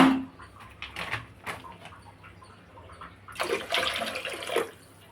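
Tamarind water splashes into a pot of bottle gourd sambar in one loud, sloshing pour lasting about a second, after quieter kitchen noise with no talk.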